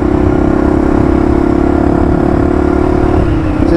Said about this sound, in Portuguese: que a moto em alta é excelente, mano.